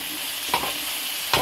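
Green peppers cooking in a pan for pepper steak, a steady close sizzle with two short stirring scrapes and no talking.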